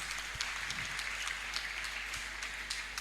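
Congregation clapping in church after a woman tells of being healed of a leg ulcer, a fairly quiet, steady patter of many hands with scattered louder claps, continuing evenly throughout.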